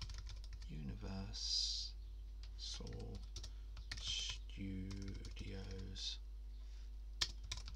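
Someone types text into a web design program on a computer keyboard, with clusters of quick, close, light key clicks under a man's intermittent speech.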